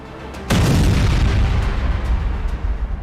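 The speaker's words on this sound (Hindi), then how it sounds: "तेहरान पर बम बरस रहे हैं, इजराइल पर मिसाइलें गिर रही है" A single deep explosion from bombs and missiles striking in a war zone bursts suddenly and loudly, then rumbles on heavily through the following seconds.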